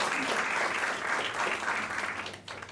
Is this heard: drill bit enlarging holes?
no